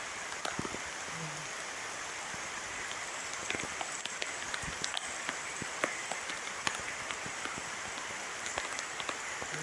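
Steady rain falls, a dense continuous patter with scattered sharper drops striking a surface nearby, spread evenly across the whole stretch with no voices heard.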